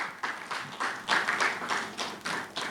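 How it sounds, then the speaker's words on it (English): A small symposium audience claps for a speaker, with sparse, uneven claps coming in loose bursts for a few seconds, close and fairly light. "let's give our speaker a round of applause"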